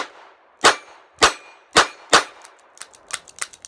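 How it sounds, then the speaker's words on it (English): Four sharp metallic clangs from .22 CCI Mini Mag round-nose bullets fired from a revolver striking a steel plate, evenly spaced, followed by a quicker run of smaller, fainter pings and taps. "I'll shoot at the steel plate."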